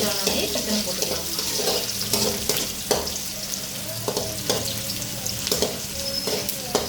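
Onions with curry leaves frying in a pan for hariyali chicken, a steady close sizzle with scraping stirs and clinks, plus a stretch of running tap water.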